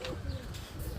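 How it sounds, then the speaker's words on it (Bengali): Brief, close cooing from a male racing pigeon: a low guttural burble lasting about a second, with a slight chirp and no talking. "নর কবুতর।"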